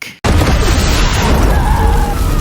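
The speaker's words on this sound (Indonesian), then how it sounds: "anak buah Simon pun langsung menembakinya sampai meledak" A police car explodes after gunfire in an action film: a sudden loud blast after a brief pause, followed by a sustained roaring burn with crackling debris.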